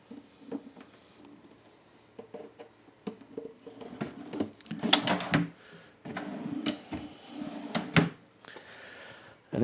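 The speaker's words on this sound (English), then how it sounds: "And in goes the drawer." A wooden drawer is pushed into a walk-in robe cabinet, giving a series of scraping slides, knocks and wooden bumps over several seconds, close and moderately loud with brief pauses between movements.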